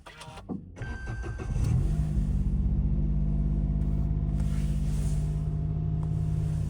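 A kei sports car engine cranks briefly and catches, then settles into a steady, close idle rumble that continues to the end.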